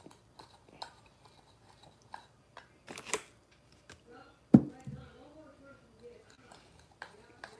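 Someone eats crawfish, pinching off tails and sucking heads, with sparse wet clicks, cracks and slurps spread over several seconds and one sharp, louder crack in the middle, close up and otherwise quiet.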